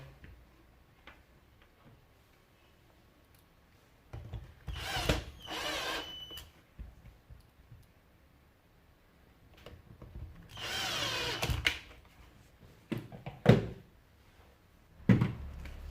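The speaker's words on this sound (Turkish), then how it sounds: "Buradaki iki vidamızı takalım." A power screwdriver drives two screws into a Fakir Heroic 2400W vacuum cleaner in two short whirring bursts, separated by quieter clicks and handling noises close by.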